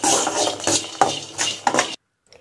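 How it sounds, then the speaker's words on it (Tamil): Garlic cloves being stirred and roasted in a pan, a series of close scraping and clattering spoon strokes against metal with faint frying underneath, then stopping abruptly into silence. "ஒரு 10-15 பூண்டு பல் ஆட் பண்ணிக்கிறேன். ஸோ இதையும் நம்ம வறுத்து எடுத்துக்கலாம்"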